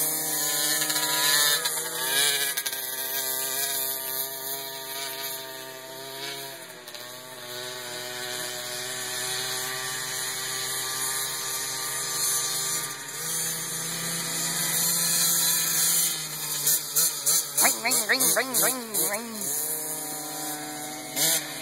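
Small motorbike engine buzzing steadily at a distance as the rider keeps cracking the throttle, with quick rapid revs toward the end.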